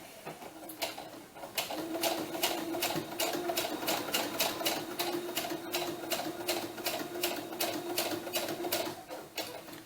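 A sewing machine stitches across the top edge of a doll's elf or witch boot, close to the edge, producing a rapid, steady mechanical clatter that starts after a moment and runs evenly until it slows near the end.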